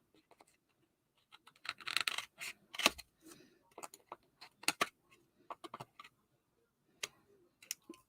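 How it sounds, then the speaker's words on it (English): Scissors trim the edge of scrapbook paper during a craft session, with a quick series of close, crisp snips and clicks, some clustered and some spaced apart, heard alone at low volume. "I'm just going to grab my scissors real quick and kind of trim it"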